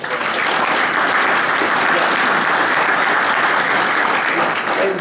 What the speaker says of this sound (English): if you could just hold your applause to the end